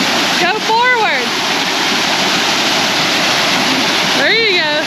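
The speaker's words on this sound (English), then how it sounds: "You're almost touching the waterfall." Waterfall in Georgia rushing as a steady, loud broadband roar that fills the whole scene, with a child's and adult's voices rising briefly over it near the start and end.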